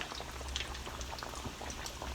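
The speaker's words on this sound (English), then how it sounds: "So, we're going to have our fish bubbling away." Fish frying in bubbling oil toward a golden brown, giving a dense, steady crackling sizzle that stays close and even throughout with no voices.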